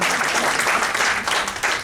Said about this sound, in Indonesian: 1, 2, 3, tepuk tangan buat Tuhan